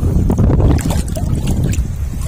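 Strong wind roars and buffets the microphone continuously out on the water while gathering capiz shells, with a deep rumbling gust noise and faint water sounds underneath.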